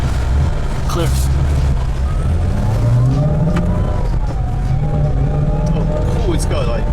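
A sports car engine revs and drones loudly from inside the cabin during a test drive, a continuous rumbling roar with rising and falling pitch, with people talking over it.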